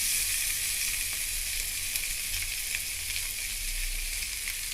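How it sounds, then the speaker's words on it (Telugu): Washed poha (flattened rice) fries in a pan for upma with a steady, close, even sizzle and hiss throughout, with no talking. "బాగా ఒక 2 minutes పాటు అంతా కలిసేలా ఫ్రై చేసుకోవాలి"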